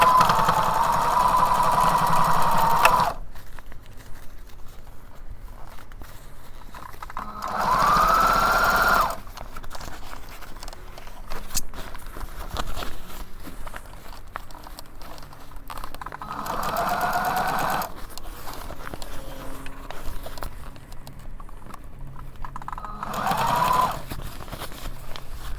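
A sewing machine stitches a bridle bag in four separate bursts of fast, even whirring, each lasting a few seconds with quieter gaps between them, and no talking.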